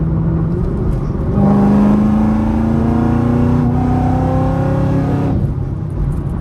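A supercharged Camaro's engine rips through a hard pull, its loud rising whine climbing steadily for several seconds before the throttle lifts and the sound drops away; no one talks.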